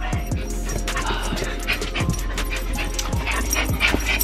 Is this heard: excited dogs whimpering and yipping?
yes